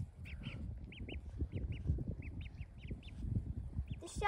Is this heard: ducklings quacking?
yes